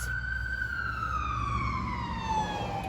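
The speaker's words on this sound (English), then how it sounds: "wait for the ambulance to go by there" An ambulance siren passes by, its steady wailing tone sliding gradually lower in pitch as it goes, fairly loud and continuous over a low rumble of traffic, with no talking.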